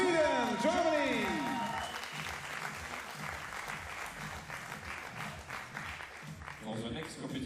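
Spectators at a junior men's 50m rifle three-positions team shooting competition applaud steadily at moderate distance, a dense wash of clapping following an announcer's brief voice at the start.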